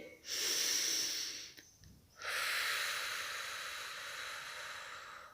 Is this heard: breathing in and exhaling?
yes